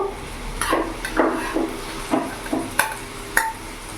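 Boiled kabuli chickpeas tipped into a pan with potatoes while making chole: a run of distinct clattering knocks and scrapes against the pan, fairly close, over a soft background sizzle.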